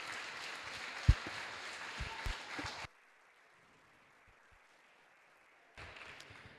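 A crowd applauds after the final of the Polish Individual Squash Championships. Steady clapping runs for about three seconds, cuts to near silence, then resumes near the end.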